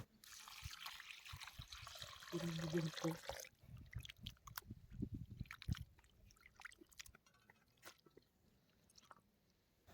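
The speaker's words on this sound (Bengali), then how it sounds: "চর্বিগুলোকে আমি ভালো করে কেটে নিয়েছি এবং সুন্দর করে ধুয়ে নেব" Chopped mutton fat being rinsed in water for an eggplant curry, with a steady wet splashing and sloshing for the first few seconds, then scattered squishy handling, drips and trickles that grow quieter and sparser toward the end.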